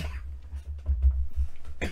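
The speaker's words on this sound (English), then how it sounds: "I don't know why I'm coughing." A few muffled coughs close by, low and throaty, in a short cluster over a deep background rumble.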